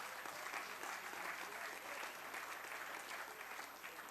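Members of parliament applauding the national football teams during a presidential reply to the State of the Nation debate, a faint, distant, even patter of many hands clapping throughout.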